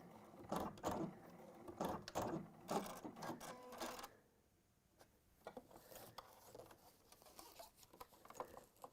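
A sewing machine stitches fabric in short rhythmic bursts of a few seconds each, close and fairly soft, separated by quieter handling of the cloth.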